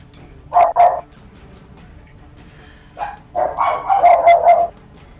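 Dogs bark in short outbursts, a pair of barks followed after a pause by a longer string of yapping, moderately loud over a low background hum.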